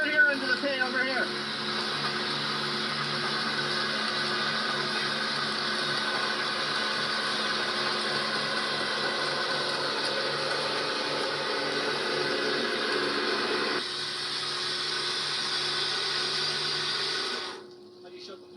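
A steady mechanical whir and hiss of a pump runs continuously, fairly loud and close, then cuts off near the end.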